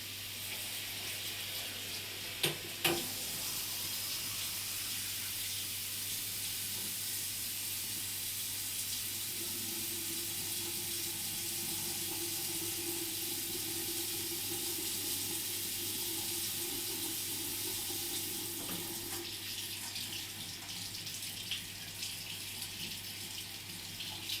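Steady stream of water pours from a bathroom faucet fitted with an aerator, a continuous hiss lasting throughout with a brief clunk near the start and no talking.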